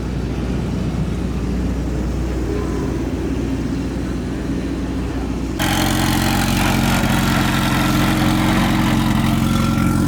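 Steady loud car engine rumble fills the whole clip at a motorsports event, growing denser and brighter partway through as another engine joins or revs up.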